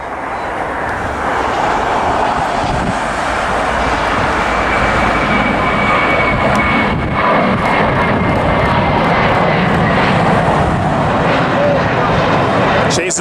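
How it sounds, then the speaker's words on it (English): A Spirit Airlines jet takes off at LAX in evening light, its engines a loud, steady broadband roar that holds for the full stretch, close and dominant. Someone speaks over the noise. "Another little Spirit taking off"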